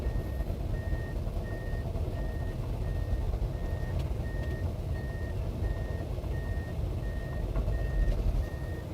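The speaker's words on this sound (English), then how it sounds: "So I'm going to drive forward here a little bit." A tracked excavator creeps forward, its heavy engine rumbling steadily and close while a regular reversing-style alarm beeps over and over in the background.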